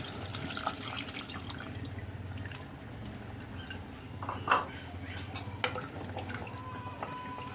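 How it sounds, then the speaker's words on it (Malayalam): Water pours and splashes into a pan of egg tamarind curry amid steady kitchen noise, with a brief louder splash midway and a few light clinks of utensils. "കുറച്ച് വെള്ളം കൂടി നമുക്ക് ഒഴിച്ചു കൊടുക്കാം"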